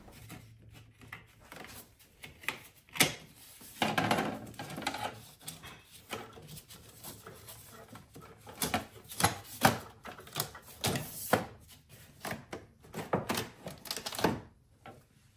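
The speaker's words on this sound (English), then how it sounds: "Taking off the plastic cover to remove all the wiring on the housing." Plastic cover being pried and pulled off a housing during disassembly, with a series of sharp clicks, snaps and knocks in irregular bursts, close and moderately loud, no talking.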